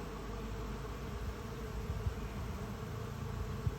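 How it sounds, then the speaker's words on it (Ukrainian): A low, steady buzz of many honeybees hums continuously around a hive as they return carrying pollen, with faint thumps underneath and no voices. "майже кожна бджола повертається з пилком"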